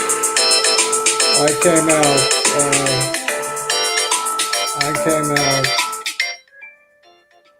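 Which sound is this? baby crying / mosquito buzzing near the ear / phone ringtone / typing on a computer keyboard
phone ringtone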